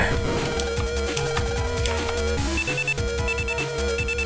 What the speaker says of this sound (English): And we got a phone call.